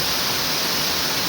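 Kintampo Waterfall in Ghana pours in a constant, dense hiss of falling water, steady and even throughout with no voices.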